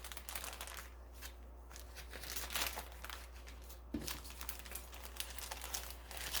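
Close, quiet crinkling and rustling of protective plastic covers handled while unboxing a new product, with irregular crackles and soft crunches throughout and no talking.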